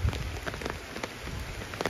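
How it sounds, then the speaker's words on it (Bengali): Rain pours over a wetland field, a dense steady hiss with scattered sharper drop hits, close and fairly loud with no one speaking. "এই যে দেখুন পানি দেখছেন কিভাবে আইসা পড়ছে বৃষ্টি"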